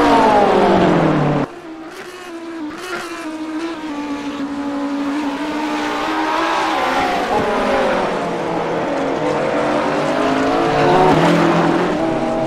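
GT series race cars roar around Virginia International Raceway, with loud, close engine noise that rises and falls in pitch as cars accelerate and shift, one car sweeping past, continuous throughout.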